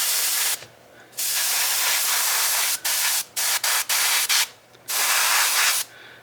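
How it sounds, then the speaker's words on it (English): Spray can hissing onto paper while making model bushes, a series of bright hissing bursts of varying length, some long and several short, with brief gaps between, close by. "gonna get a good amount of spray on this thing."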